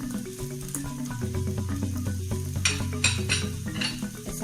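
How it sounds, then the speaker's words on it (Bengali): Ground Kashmiri chilli, cumin, coriander and black pepper being stirred and sautéed in a pan, giving a steady close sizzle with soft scraping strokes throughout. "এবার আমি মশলাটা একটু কষিয়ে নিচ্ছি।"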